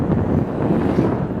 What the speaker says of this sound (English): at least there's a little bit of a wind today